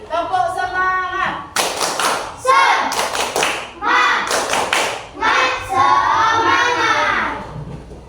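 A school class does a rhythmic chant-and-clap cheer, sharp claps and thumps falling in a patterned beat between bursts of children's voices chanting along, loud and close.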